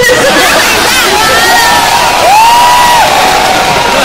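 A large crowd at a birthday event in the Philippines cheers loudly and continuously, with high shouts and whoops rising above the dense roar.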